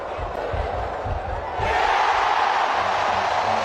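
A cricket crowd at a New Zealand versus West Indies super over roars in broad, steady cheering that swells louder partway through and holds, with commentary voices underneath.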